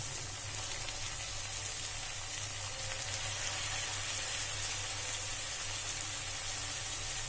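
Chopped, washed cabbage tipped into a pan of hot oil for a simple pallya, giving a steady, even sizzle and hiss that carries on alone throughout.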